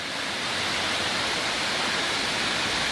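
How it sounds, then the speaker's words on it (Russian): A small waterfall in a snowy winter forest pours with low flow, giving a steady, dense, hissing rush that holds at the same level throughout and carries no other sounds. "Доехали мы до водопада."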